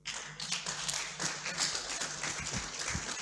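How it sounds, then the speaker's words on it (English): An audience at a training session on combating human trafficking gives a round of applause: dense, sustained clapping that stays even and fairly soft throughout, with no voices over it. "Please, another round of applause for him."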